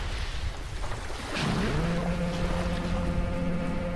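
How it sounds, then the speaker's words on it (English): Loud water and rolling waves wash steadily around a lighthouse in the game The Lightkeeper, a broad constant roar with a low tonal drone rising partway through. "The water is so loud and wet."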